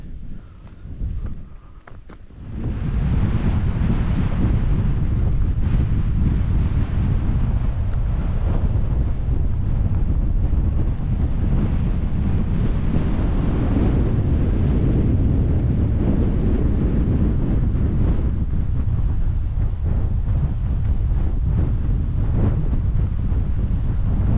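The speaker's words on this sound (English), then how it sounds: "I'm on the ridge top and it's windy" Strong, steady wind buffeting the microphone on a ridge top on the Dorset coast above Chesil Beach, a continuous heavy low roar with gusty texture, after a brief quieter moment at the start.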